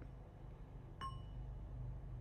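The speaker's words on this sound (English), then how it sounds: "let's just listen to the bell, and when you listen to the sound of the bell, you will breathe in and breathe out" A meditation bell struck once during a guided breathing session gives a faint, bright ding that fades quickly over a quiet, hissy room.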